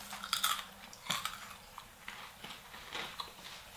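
Someone bites into a crispy samosa, one with shrimp or beef filling: sharp crunches at the start, then quieter chewing with soft clicks, close to the mic and without talk.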